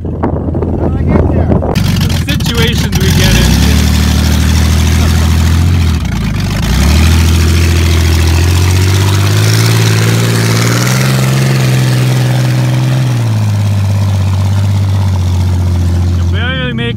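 A Chevrolet Blazer engine idles loud and deep close by, with a rough rumbling drone that rises and dips in a few revs. Voices and laughter come briefly at the start and end.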